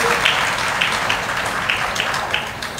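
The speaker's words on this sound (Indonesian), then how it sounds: "Kasih tepuk tangan dong buat Ibu." An audience at a Ramadan gathering in a mosque applauds a guest of honour, with sparse, scattered claps over a murmuring crowd and a few sharper hand slaps standing out.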